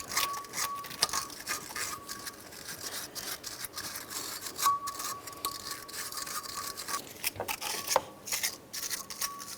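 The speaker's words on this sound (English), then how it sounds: "I'm just going to use a wire brush." A wire brush scrubs the ignition coil mounting base plate on a 2008-2016 Chrysler Town & Country 3.8L V6, quick irregular bristly strokes, close but fairly quiet, with no talking.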